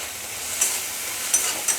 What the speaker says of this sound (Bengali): দেখুন পেঁয়াজটা মশলাটা আমার খুব ভালোভাবে ভাজা হয়ে গেছে